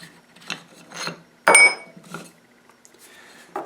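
Wooden tote being worked loose from the stiff threads of an old hand plane, giving a few short scraping and rubbing bursts with one louder grinding squeak in the middle, close up and alone.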